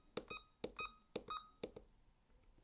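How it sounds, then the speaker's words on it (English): Millennium The King Performance chess computer giving short electronic beeps in a steady repeating pattern of single and double tones, close and fairly quiet with no talking. "it makes these little beeping sounds"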